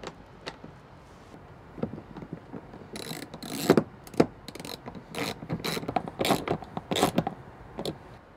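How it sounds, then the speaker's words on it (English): A bolt being screwed in by hand to mount a headliner shelf bracket in a vehicle, a series of quick ratcheting clicks in short bursts, fairly close and quiet, with no talking. "we're gonna go ahead and screw it right in"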